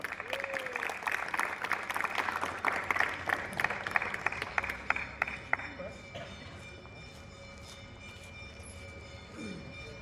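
An audience applauds to welcome a poet onstage at a poetry event: dense, crackling clapping builds for several seconds, then thins and fades away, leaving a quieter hall.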